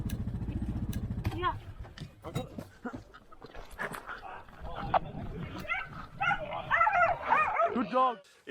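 Hunting dogs on a feral pig hunt in New South Wales bark and whimper close by in excited bursts, with high yips building toward the end, while a person talks over them and a vehicle rumbles low at the start.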